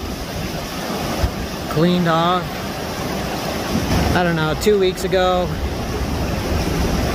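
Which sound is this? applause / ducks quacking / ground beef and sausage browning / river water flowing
river water flowing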